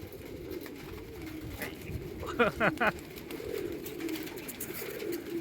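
Pigeons on a rooftop coo in low steady murmurs while a few sharp flapping bursts of wings rise near the middle as birds take off, with faint voices in the background.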